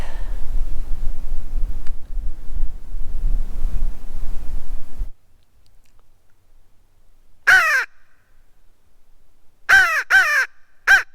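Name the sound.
wind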